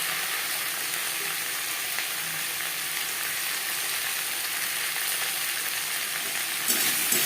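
Potatoes sizzle steadily in hot oil in a pan with turmeric and salt, a loud, close, continuous frying hiss with faint stirring scrapes and a brief louder stir near the end, no voices.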